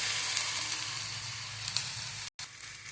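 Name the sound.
finely chopped onion frying and being stirred until brown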